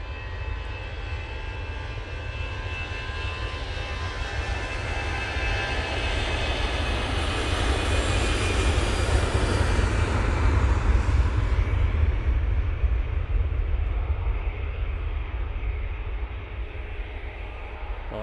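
An Airbus A320-200 arriving from Oslo at snowy Manchester Airport makes a jet roar that swells to a loud peak midway, then eases as the aircraft passes and recedes.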